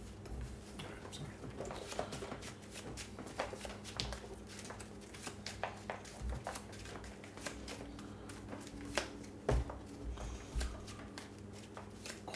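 Cards for the Earthborne Rangers board game get shuffled close by, a quiet run of rapid clicking riffles and slaps repeating over several seconds at tabletop level.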